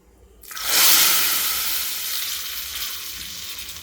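Curry leaves hit hot oil as tempering for peanut pachi pulusu, a sudden loud burst of sizzling that peaks quickly and then settles into a steady hiss.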